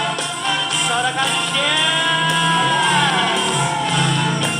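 A church congregation at an online evening prayer service shouting and cheering together, a sustained loud wash of raised voices and whoops lasting several seconds.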